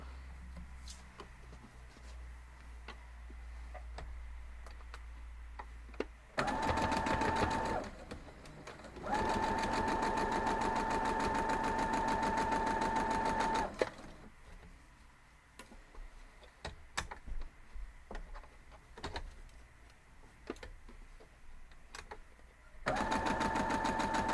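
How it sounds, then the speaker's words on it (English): A sewing machine stitches quilt block seams for a star quilt in several separate bursts of fast, even mechanical whirring and ticking, with quiet gaps of small handling clicks and rustles between runs, heard up close and without speech. "So let's head on over and sew all these up."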